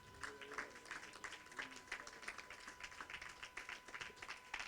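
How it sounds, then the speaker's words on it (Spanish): A church congregation claps for the Lord during a service, scattered rhythmic handclaps from a modest crowd, fairly quiet and uneven, with a faint steady tone underneath. "Denle un fuerte aplauso al Señor"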